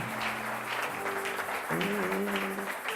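A worship congregation cheers and claps under sustained music with a steady held tone, the crowd noise broad and continuous throughout at a moderate level.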